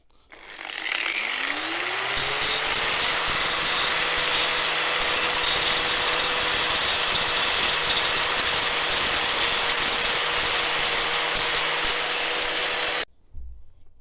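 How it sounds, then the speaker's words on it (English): A steady, loud power grinder whine grinding down a Harley motorcycle exhaust runs continuously for about twelve seconds, spinning up at the start and cutting off near the end. "I'm going to get the grinder out now, and then we're going to grind"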